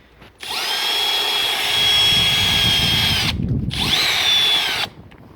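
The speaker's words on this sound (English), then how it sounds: "Just going to drill into the bumper through these holes and insert the rivets" A power drill whines loudly up close as it bores a rivet hole into a BMW bumper for an M Performance side skirt extension, one long burst, a brief stop, then a shorter second run, with no voices.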